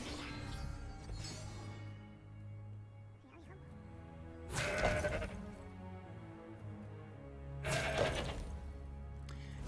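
Mountain Goat card bleating in the Legends of Runeterra video game, two bright bursts standing out over a steady bed of game music and effects.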